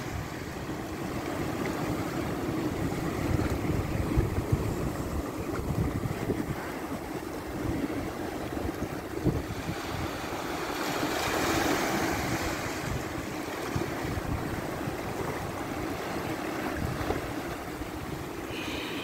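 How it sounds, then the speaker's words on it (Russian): Indian Ocean waves break and wash over lava rock in a steady, continuous roar, with gusting wind buffeting the microphone throughout and no voices. "Но все равно почувствуете вот шум волн, ветер."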